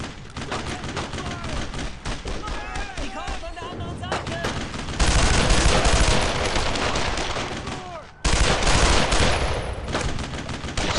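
Sustained suppressing gunfire in the World War II shooter Brothers in Arms: Road to Hill 30, dense overlapping rifle and machine-gun bursts, loud and close, with brief pauses and shouted voices mixed in.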